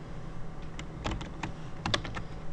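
A computer mouse gives several close, light clicks in an irregular cluster, with a couple of sharper taps near the end, over a faint steady hum and no voice.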